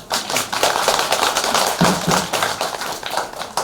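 An audience at a Korean Buddhist temple Dharma gathering breaks into dense, sustained applause, loud and close with crackling overlapping claps throughout.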